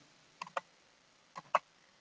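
Four faint, crisp computer mouse clicks fall in two quick pairs in a quiet room, with nothing else heard.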